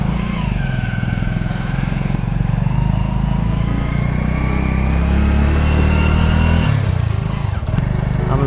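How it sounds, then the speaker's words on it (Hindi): A motorcycle ride, with a loud continuous engine rumble and rushing wind noise filling the whole stretch, the pitch rising and falling slightly as the bike moves. "आज गाड़ियों में नहीं, आज बाइक पे चलते"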